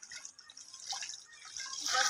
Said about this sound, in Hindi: इधर मेरी मम्मी तो कपड़ा धो रही है।